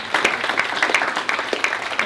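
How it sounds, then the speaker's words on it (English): Audience applause for young people at a public lecture on architectural heritage, scattered individual claps in an irregular rhythm, moderately close and fairly light. "Let's give the young people applause."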